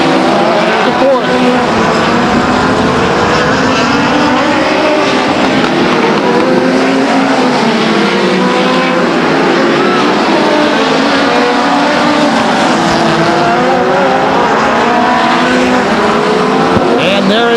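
Race cars lap the oval at Stockton 99 Speedway in a 1999 event, engines droning and whining continuously as cars pass with rising and falling pitch, while an announcer talks over the racing.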